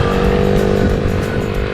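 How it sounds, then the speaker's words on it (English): A small engine on a child's toy motorcycle buzzes loudly and steadily up close, a raspy continuous whine like revving. "Now this is not an actual motorcycle, this is some type of child's toy."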